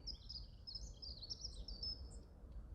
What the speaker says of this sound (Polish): aż ptaszki zaćwierkały chyba na potwierdzenie albo na pocieszenie